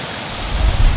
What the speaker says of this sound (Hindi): चोटियों से ढलान की तरफ झरने फूट पड़े।